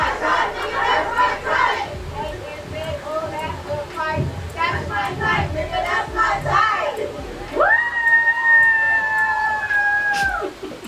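A crowd cheers and shouts for a female MC at a live performance, with voices rising together before a sustained high whoop rings out near the end.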